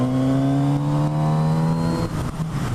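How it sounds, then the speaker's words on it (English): A Kawasaki Z900RS motorcycle engine drones steadily while riding, holding a loud, even tone before the pitch drops as the rider eases off, with wind noise underneath. "the engine note is absolutely lovely on this bike."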